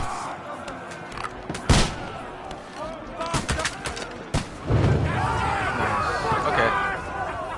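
A crossbow volley in the game Kingdom Come Deliverance 2, with sharp shots and thuds over a noisy battle din, shouting voices breaking through at times.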